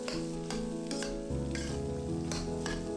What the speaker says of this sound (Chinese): 炒到蔬菜断生，再加入炒好的鸡蛋，一起翻炒均匀。